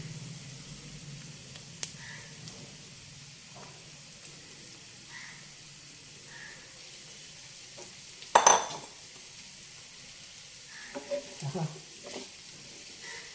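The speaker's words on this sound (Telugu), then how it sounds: "మనం ఈ కాకరకాయ ముక్కలు వేసేసుకుందాం" Bitter gourd pieces fry with ginger and garlic in a pan, a quiet, steady sizzle broken by one sharp utensil clatter midway and a few light clinks near the end.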